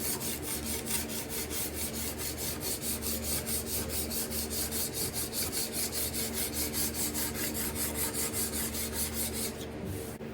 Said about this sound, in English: that, my friends, is how you scrape a table with a card scraper